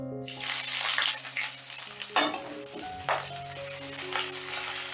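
Chopped onion, garlic and green chilli fry in hot oil with a bright, steady sizzle, close up, broken by a few clinks and scrapes of a spatula stirring the pan. No one speaks.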